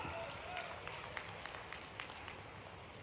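Crowd applause at a political rally, a dense, steady wash of many hands clapping with scattered sharper claps standing out, sustained for about three seconds amid the murmur of the gathering.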